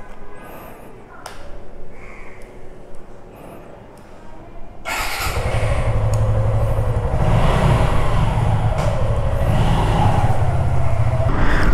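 A vehicle rides along a road near Parki sea beach in Anowara, Chittagong. It is quiet at first, then a loud, steady engine and road rumble sets in about halfway through and continues to the end.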